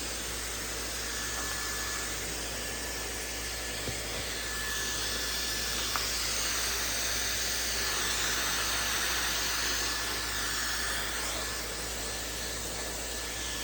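Maxodo high-speed hair dryer blowing continuously, a loud steady airy whine and hiss with a thin high tone, unchanging across the whole stretch with no speech.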